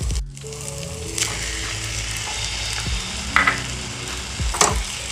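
Steady frying sizzle as fish fries with chili, a utensil scraping and stirring in the pan, a few sharper scrapes and clinks standing out, no voices.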